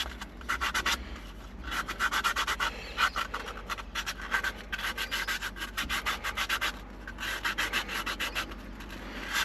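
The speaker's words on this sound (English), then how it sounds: "Because it's got the spiraling, it's obviously takes a little bit longer to sand it as well." A carved macadamia wood spoon being hand-sanded outdoors, with quick rhythmic scratchy rubbing strokes repeating steadily and close, with no talk.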